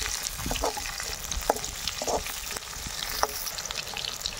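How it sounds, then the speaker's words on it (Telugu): Capsicum and onions frying for veg manchurian give a steady, close sizzle with occasional scraping stir strokes, and nobody speaks. "ఇవి బాగా వేగుతున్నాయి."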